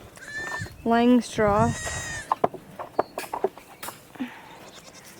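Farm goats bleat loudly and close by, several long wavering calls in quick succession, followed by clattering knocks and a few spoken words around beehive work.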